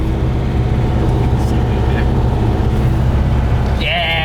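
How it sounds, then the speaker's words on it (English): A 1968 VW Beetle rolls through a parking lot, its engine a steady low rumble throughout, with a brief rising whine near the end. "We're driving the bug."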